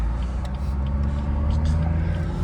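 Tuned BMW 440i Gran Coupe with a stage 2 tune and downpipe exhaust, a loud, deep, continuous rumble heard from inside the car.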